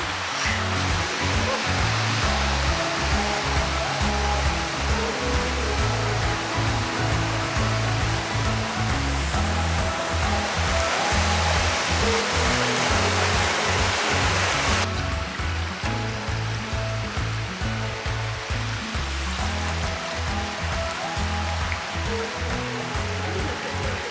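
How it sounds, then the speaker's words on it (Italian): Cascate del Tuorno, a waterfall nearly 20 metres high in southern Italy, roars as a loud, steady rush of falling water that fills the whole scene without pause. "una cascata alta quasi 20 metri"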